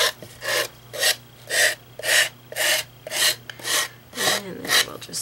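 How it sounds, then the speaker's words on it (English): An emery board rasps back and forth across a glue-edged painted wooden piece, about nine steady, even strokes close up with no talking. "And then we'll just sand that off."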